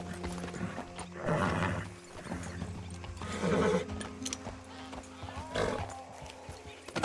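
A horse in the video game Red Dead Redemption 2 whinnies a few times amid hoof clip-clops and game ambience, with a player talking over it.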